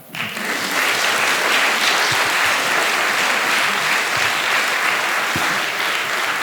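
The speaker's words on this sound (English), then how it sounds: "which is worth a clap" Concert audience at an annual charity concert breaks into applause after a cellist is introduced, starting abruptly and swelling into steady, full clapping that continues loud and even.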